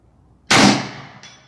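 A single sharp shot from an AEA Max HP .357 big-bore airgun rings off a steel target at 100 yards, a loud crack with a metallic ring that decays quickly, and a faint second tick trails behind it.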